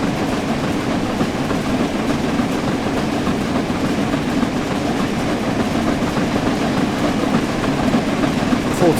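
Flying Scotsman steam locomotive in the Train Sim World 4 game, running at speed with a steady rumbling roll and continuous rail clatter, loud and close throughout.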